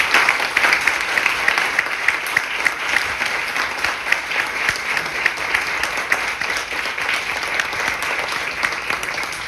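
Audience applause fills a live role-playing session at the Celsius232 festival: dense, steady clapping from a crowd that holds at an even level throughout, with scattered sharper claps standing out.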